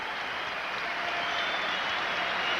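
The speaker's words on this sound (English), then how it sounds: "He gets a nice hand from the crowd for 2 more" Crowd applause at a 1990 Nuggets versus Celtics NBA basketball game in the arena, a steady, dense wash of clapping throughout, moderately loud and unbroken.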